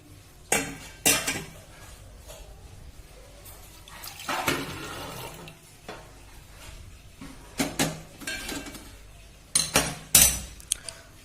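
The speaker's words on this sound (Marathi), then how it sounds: "आता मी वरण बनवण्यासाठी गॅसवर पातेलं ठेवलेलं आहे" A cooking pot is set on a gas stove and utensils clink against it in scattered clanks and knocks, with quiet gaps between the louder bursts.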